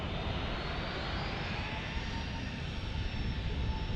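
A Bombardier Global private jet in from the islands touches down at San Diego International Airport with a sustained, loud broadband engine roar topped by a steady high whine, heard continuously and fairly close.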